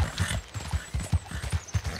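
Steady, close hoofbeats of a horse clip-clopping up a mountain in the video game Red Dead Redemption 2, evenly paced and loud with no voices over them.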